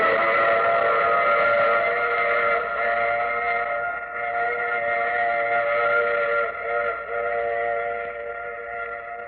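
A radio drama sound effect of a train whistle sounds as a sustained multi-tone steam blast, loud at first and slowly fading, with a faint rumble of rail wheels underneath and no speech.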